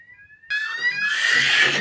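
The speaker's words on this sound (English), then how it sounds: "That alarm's going off." A school fire alarm suddenly sounds, a loud, steady electronic tone that holds unbroken to the end after a brief quiet lead-in.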